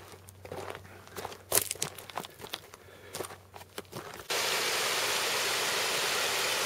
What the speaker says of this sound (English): This is the waterfall, Ben Nevis